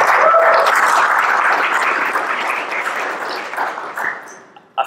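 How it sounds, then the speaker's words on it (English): Audience clapping after a talk at a DWeb Social event, a loud, sustained round of applause that slowly fades, ending with a few scattered claps. "Let's just clap again."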